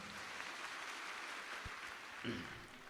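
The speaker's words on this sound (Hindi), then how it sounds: "ताली बजा के इनको धन्यवाद दो" An audience at a religious discourse gathering in Karera, Shivpuri claps steadily throughout, a dense sustained applause with a voice speaking faintly underneath.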